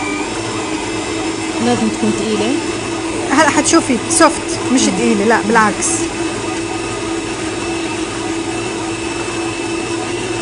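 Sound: stand mixer kneading cheese tart dough at slow speed

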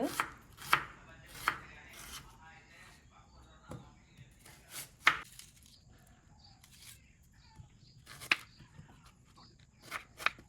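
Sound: knife chopping chicken

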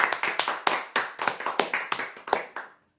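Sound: applause for a lucky draw winner

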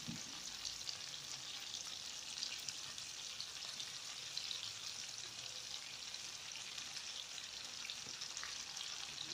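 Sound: arugula sizzling as it is added to the frying pan

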